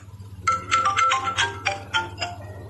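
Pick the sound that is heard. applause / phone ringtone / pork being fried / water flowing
phone ringtone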